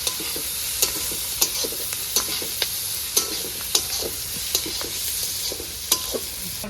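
Spices sizzle in hot oil in a pan at an outdoor picnic cook-up, a constant frying hiss punctuated by regular scraping knocks of a spoon stirring every half second or so.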